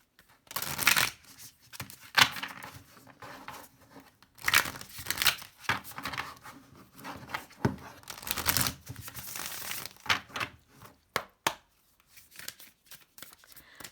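A deck of oracle cards is handled and shuffled during a pick-a-card tarot reading, with repeated soft papery riffles, slides and crinkles that come in bursts with short pauses.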